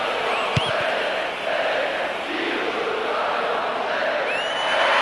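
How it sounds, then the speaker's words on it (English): Stadium crowd in the football video game FC Mobile cheers in a steady, loud roar that swells and holds, with a few whistles and whoops cutting through. "the crowd certainly approved"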